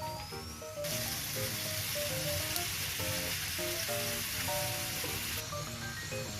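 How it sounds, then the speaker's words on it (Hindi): A mat paratha roasting in ghee on a hot pan gives off a steady close sizzle, with light background music playing along throughout. "देखिए अब हमारा पराठा अच्छे से रोस्ट हो गया है।"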